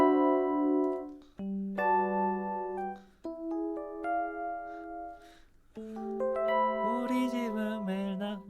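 AEROBAND MIDI guitar set to a piano-like tone plays a song melody, with sustained bell-like notes and chords in a flowing phrase that grows fuller near the end, close and alone.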